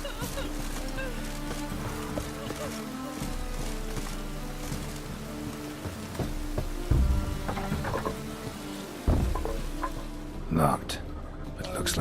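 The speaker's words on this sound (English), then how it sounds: "It only ever rains these days." Rain in The Witcher 3 falls as a steady patter throughout, with a few heavier thuds and rustles and a voice speaking over it.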